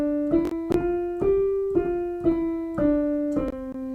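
A single voice sings a vocal warm-up scale of five tones stepping up then back down, each note clear and sustained with a soft rhythmic tap marking the beat.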